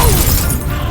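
An Expelliarmus spell cast in Hogwarts Legacy lands as a loud, close, crackling magical blast with a shattering edge that sustains, then thins slightly toward the end.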